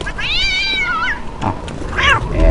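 A cartoonish cat in a video game gives two drawn-out meows, loud and close, with a brief rising mew in the middle.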